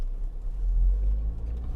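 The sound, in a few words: MG GS 2-liter turbo SUV driving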